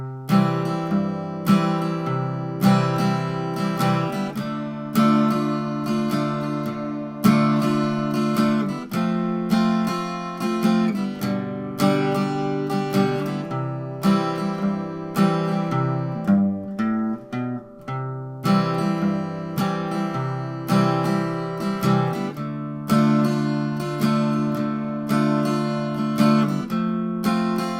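Guitar plays the intro of a song at a slowed practice tempo, with steady picked notes and strummed chords ringing continuously and alone at close range.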